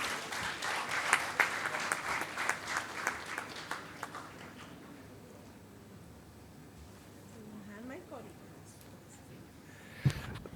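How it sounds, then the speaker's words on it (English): Applause for a guest speaker at an entrepreneurship conclave, a burst of many hands clapping for the first few seconds that thins out and fades, followed by quieter room noise and a sharp knock near the end. "With a huge round of applause, please welcome our next guest speaker"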